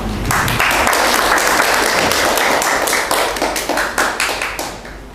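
A classroom group gives a round of applause to a student group, dense close clapping that holds strong, then breaks into separate claps that fade out.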